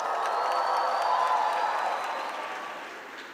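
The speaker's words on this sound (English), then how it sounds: "A big round of applause." A large audience at a panel discussion on mental health applauds and cheers as panelists walk onto the floor, a steady wash of clapping and crowd noise that slowly fades.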